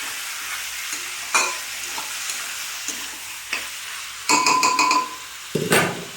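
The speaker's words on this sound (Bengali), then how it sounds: "মাংসগুলো দিয়ে দিলাম, দিয়ে এটাকে আমি কষবো।" Chicken pieces being stir-fried for kosha in a pan give a steady sizzle, broken by scraping spatula strokes and a few sharp metallic clinks and knocks against the pan, close and fairly loud.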